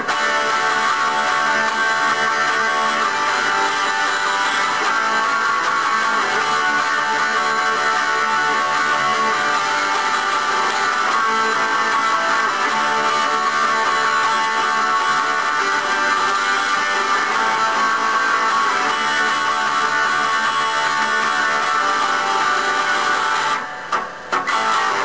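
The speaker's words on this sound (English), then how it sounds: "which has a rhythm guitar section that sounds like this" Rhythm guitar playing the final verse of a song, a dense, steady strummed electric part at constant loudness for the whole stretch, alone without voices.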